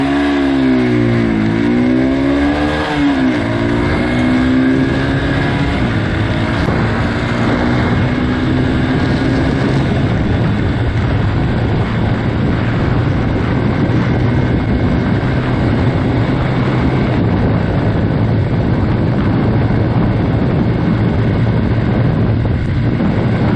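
Yamaha XT 125 R motorcycle engine, a small single-cylinder trail bike with a five-speed gearbox, revving with rising and falling pitch early on, then running steadily and loud under heavy wind buffeting on the microphone.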